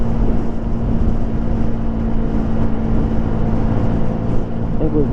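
Hyosung GD250R motorcycle cruising at highway speed around 80 mph, a loud, steady engine drone mixed with wind rush, constant throughout.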